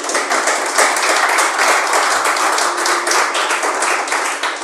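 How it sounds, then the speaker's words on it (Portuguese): A church congregation claps for Jesus in a steady, dense burst of many hands that holds loud and even throughout, with no voices above it. "Palmas para o Senhor Jesus."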